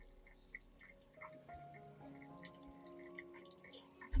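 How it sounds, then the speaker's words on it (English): Clean water rinsing an orchid plant after its damaged roots were cut off: quiet dripping and trickling from a tap, with soft irregular drops and a faint running stream close by. "I will rinse the entire plant with clean water."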